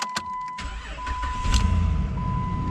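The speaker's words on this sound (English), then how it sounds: "It starts right up like it's supposed to." A 2018 Chevrolet Silverado pickup with a transmission fault cranks and fires up quickly, then settles into a steady low idle, with a dashboard chime tone running underneath.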